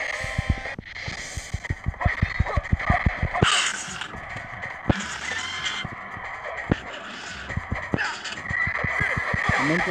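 A horse in the video game Dynasty Warriors whinnies loudly amid rapid clip-clop hoofbeats and game-like sound effects, with short bursts of bright noise throughout.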